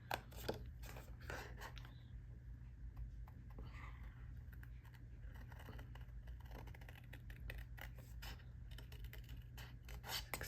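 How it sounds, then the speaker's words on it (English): Scissors cut slowly and carefully through card stock for a greeting card, shaping a curved edge, making faint, close snips and rasps in uneven, intermittent bursts over a low background hum. "So I'm just going to carefully cut."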